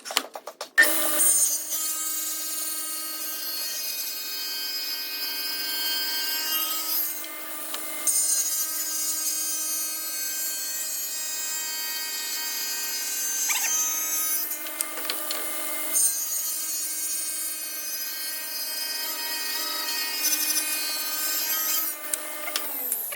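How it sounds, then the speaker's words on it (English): A saw cuts through walnut pieces for a cutting board, running as a steady, loud, continuous buzz for over twenty seconds with only brief dips between cuts. "we got all the walnut cut"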